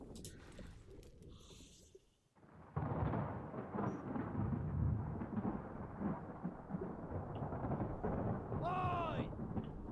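A game thunderstorm rumbles loud and broad through most of the stretch, a low roaring rain-and-thunder bed after a quieter opening, with a brief rising whine near the end; a voice talks faintly over part of it.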